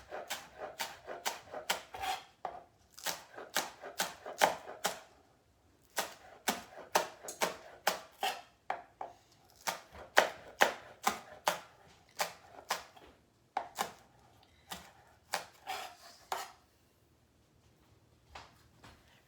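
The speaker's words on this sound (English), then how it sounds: "Hold it tightly together with my claw grip and cut it into rings." A knife chops a vegetable into quarter-inch rings, many quick, crisp cuts in steady bursts with short pauses, close and clear, no talking.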